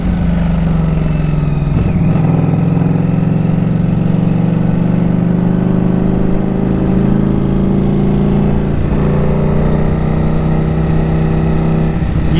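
A Ducati Streetfighter V4S motorcycle engine runs loud and close, a thick, rumbling drone that swells and eases as the throttle is blipped, with no voices.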